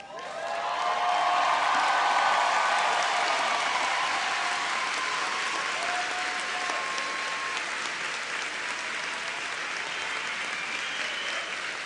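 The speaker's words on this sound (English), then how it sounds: "give applause to your family members" Standing audience at a John Jay College graduation ceremony applauds graduates' family members, the clapping swelling quickly into a loud, broad roar of many hands, with faint cheers and whistles, then tapering slightly while staying sustained.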